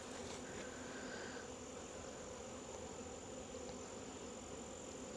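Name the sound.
honeybees flying around a hive entrance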